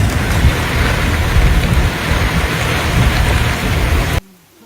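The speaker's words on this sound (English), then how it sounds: "dumping relentless rain hour after hour" Heavy, relentless rain pours down during a Florida flood, a loud dense roar that continues steadily before cutting off abruptly near the end.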